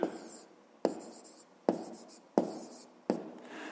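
A pen or pencil writes out a fifth-grade maths solution by hand in five short, scratchy strokes at a steady pace, each a crisp onset that trails off, close and fairly quiet with no talk.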